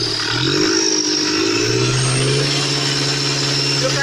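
A truck or diesel engine runs and is revved, a steady loud mechanical drone with rising and settling pitch over a constant rumble, close by with no talking.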